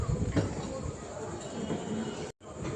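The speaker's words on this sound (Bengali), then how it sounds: "ট্রেন ঢুকছে, ট্রেনটা ধরে নিই" A train pulls into a railway station at night with a continuous rumble and rolling clatter, while people's voices mix in nearby.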